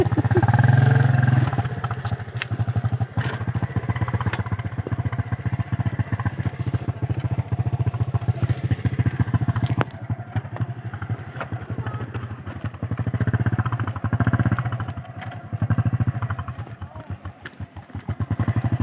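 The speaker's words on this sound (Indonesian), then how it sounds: "Motor bebek nih, Bos." A small underbone motorcycle engine revs and idles up close, loud and uneven, with throttle blips and rattling clatter throughout.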